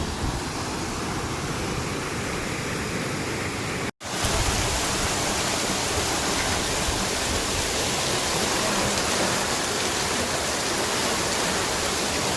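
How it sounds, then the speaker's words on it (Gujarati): A heavy monsoon downpour in Liliya, Gujarat, with streams overflowing, roars as a steady, dense hiss of rain that stays loud and constant throughout, with only one momentary break. "તો મિત્રો લીલિયામાં અત્યારે ધોધમાર વરસાદ પડી રહ્યો છે"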